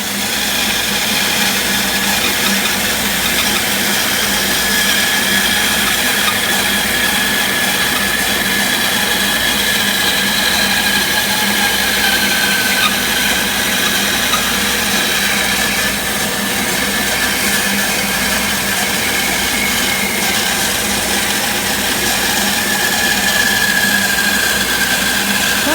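Bandsaw cutting through a wooden block to make a bandsaw box in a woodworking shop, a steady loud whine and hum running continuously with no pauses and no talk.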